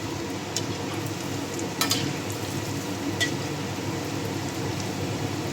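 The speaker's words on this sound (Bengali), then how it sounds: "এখন আমি ছোট ছোট করে ভেজে নেব।" Small jackfruit fritters frying in hot oil, a steady crackling sizzle with a few sharp pops, close and even over several seconds, no talking.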